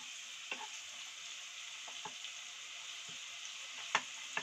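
Garlic paste frying in a pan over full heat, a steady quiet sizzle with a few light clicks of a spoon against the pan.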